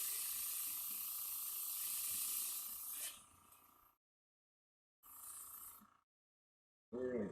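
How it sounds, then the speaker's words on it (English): An airbrush sprays cleaner straight through to flush it out, giving a loud, steady broadband hiss with a faint tonal whine that tapers off, then two shorter blasts after silent gaps, with a brief voice at the end. "I usually blow like a whole cup worth of the cleaner through there"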